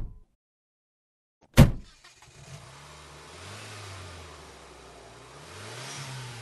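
A car door slams sharply, and then an engine starts and revs, rising and falling in pitch as the car drives away, steady and moderately close, with no talk.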